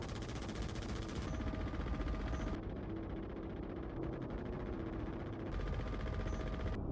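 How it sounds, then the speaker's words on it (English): Size 6 ship weapons in the Star Citizen video game fire steadily at a Polaris, a dense continuous barrage of rapid shots over a droning engine rumble with no talk. "Okay, I'm gonna shoot at that Polaris."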